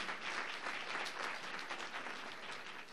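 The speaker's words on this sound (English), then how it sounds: "if we can give them a round of applause for the hard work that they're doing" Audience applauding steadily at a teacher of the year ceremony, a dense, sustained clatter of many hands that stays loud throughout with no speech over it.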